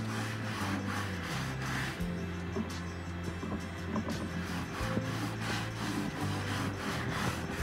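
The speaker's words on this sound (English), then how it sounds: "We're going to use some Annie Sloan clear wax, and we're just going to put that all over our stencil." Annie Sloan clear wax being rubbed by hand over a stencilled old vanity during a desk makeover, a steady continuous scrubbing with a low hum in the background and no talk.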